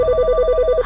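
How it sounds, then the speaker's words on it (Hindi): A telephone rings in a rapid repeating electronic trill, about a dozen short pulses in under a second, loud and close with no voices over it, in a Hindi TV drama scene. "ये उन्हीं का फोन होगा।"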